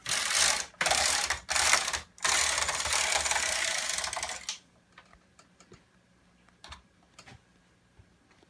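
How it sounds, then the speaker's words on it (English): A knitting machine works a cashmere cable sweater up from pre-knit ribs, its carriage passing in loud rattling, clacking bursts for several seconds before settling into sparse, quiet mechanical clicks. "he hangs the ribs on this machine to knit the sweater up from the ribs"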